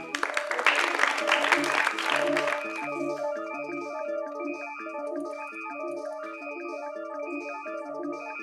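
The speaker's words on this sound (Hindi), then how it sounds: "जोरदार तालियां बच्चों" Children clap enthusiastically at a stage magic show, a burst of applause that fades after a few seconds into tinkling background music.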